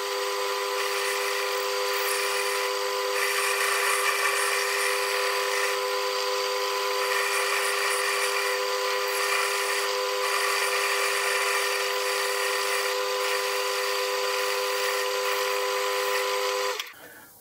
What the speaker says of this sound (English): I'll machine a taper in the bore and then try one of the collets to see whether it needs adjusting or not.